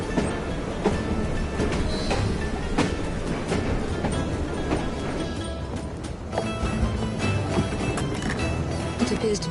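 A train running in the video game Assassin's Creed Syndicate, with a continuous loud rattling rumble and rhythmic clickety-clack of wheels on rails, dense and close throughout.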